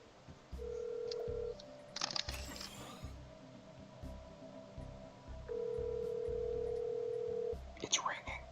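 A phone call rings out as ringback, two long steady tones separated by a pause, with soft rustling and a few clicks between them.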